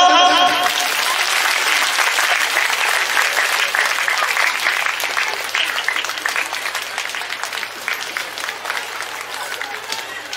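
Sustained applause from an audience at a church felicitation ceremony in Bramanmara Parish, dense clapping that starts loud and slowly thins and softens over about ten seconds, with no talking over it.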